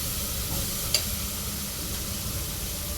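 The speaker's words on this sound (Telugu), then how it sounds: "గోకరకాయ వేసుకోవాలి ఇవి బాగా ఫ్రై చేసుకోవాలి" Cluster beans fry in a pan with a steady, even sizzle close by, broken once by a single brief clink.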